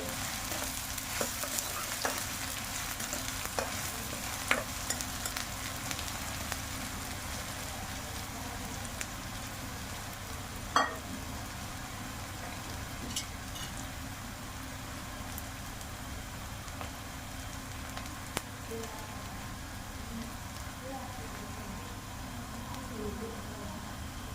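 Sliced onions fry in hot oil in a pan for a Gujarati vegetable curry, giving a steady, even sizzle throughout with a few faint clinks.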